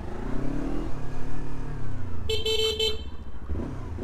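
A motorcycle fitted with a Leo Vince exhaust and silencer runs steadily nearby with a low engine drone, and a short car horn honk cuts in midway.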